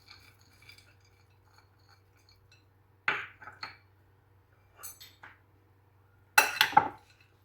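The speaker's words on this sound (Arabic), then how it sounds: "نخلط هاد الفواكه كاملين." Chopped fruit including apple and pomegranate arils tossed with a spoon in a bowl, a few brief clinking scrapes of utensil against the dish separated by near silence.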